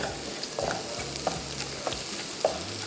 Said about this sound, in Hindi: अब इसमें आ जाता है चिकन बोनलेस और इसको हमने तेज़ आंच पे करीबन कोई 3 से 4 मिनट फ्राई करना है